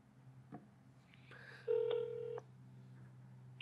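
A mobile phone lying on a table dials out: a faint tap, then a steady electronic ring tone with a stepped pitch that holds for under a second before cutting off, all over a low background hum.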